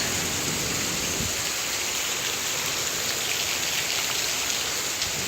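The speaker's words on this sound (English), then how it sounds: "That's a lot of rain." Heavy rain falls in a steady, dense hiss that pours down continuously at close range, with no voices.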